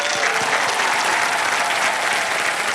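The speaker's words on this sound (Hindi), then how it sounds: "जोरदार तालियां इनके लिए।" Studio audience on a Hindi game show, Wheel of Fortune, breaking into loud, sustained applause, a dense steady wash of clapping with no talk over it.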